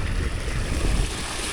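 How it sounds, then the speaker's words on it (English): Irrigation ditch water runs steadily into a field outdoors, a continuous broadband rushing wash, close and fairly loud, with no talking. "just the water that's running by, he's just letting it go in this field"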